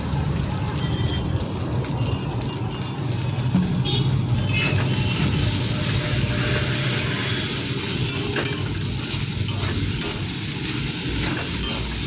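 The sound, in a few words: stir-frying chow mein with egg and vegetables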